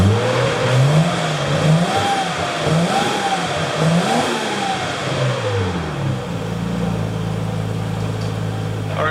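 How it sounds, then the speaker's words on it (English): A Nissan Skyline R33 four-door fitted with a stainless exhaust is recorded from behind the car and revved several times in rising and falling pulses, then settles into a steady idle, loud and close. "I'll put the camera behind the car and I'll give it a rev."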